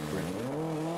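Rally car drifting sideways through a corner at the Wechselland Rally 2015, a loud continuous engine drone with tire squeal sliding in pitch, close and steady for the whole second.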